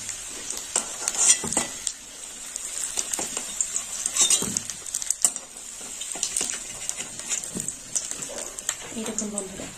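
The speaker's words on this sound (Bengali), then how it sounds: "আলুগুলো লাল লাল করে ভাজা হবে।" Potatoes frying in oil for a Bengali mocha chicken dish, with a steady high sizzle beneath repeated clinks and scrapes of a stirring utensil against the pan, close and moderately loud throughout.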